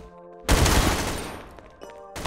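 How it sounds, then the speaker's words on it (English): An admin cannon fires in the Garry's Mod DarkRP game: one loud, booming blast that rolls off slowly, followed by a second sharp shot at the very end, with no voices. "Why is he just shooting at me? What, he just shot me? That's an admin cannon."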